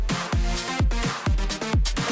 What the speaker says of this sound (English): we've got an EDM melody and EDM beat, and it sounds like this